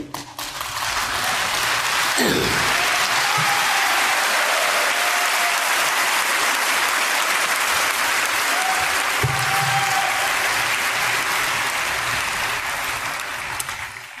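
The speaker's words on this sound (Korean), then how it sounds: "하늘 앞에 박수 한번 해올리지요." A large audience applauds in a sustained, even roar of clapping that swells in at the start, holds loud and dense for several seconds, and tapers slightly at the end.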